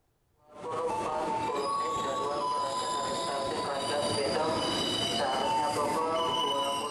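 An electric KRL commuter train on the Tanah Abang–Rangkasbitung line at Rangkasbitung station, a loud steady rumble with screeching wheels and metallic squeals running continuously, with a voice faintly underneath.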